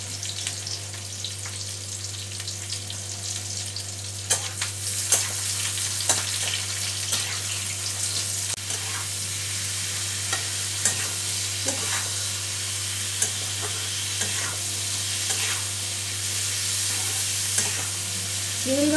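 A prawn dish fries in a pan with a steady close sizzle, broken by scattered clicks and scrapes as it is stirred, over a low constant hum.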